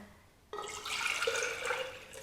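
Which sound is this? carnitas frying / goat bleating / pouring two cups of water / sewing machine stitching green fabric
pouring two cups of water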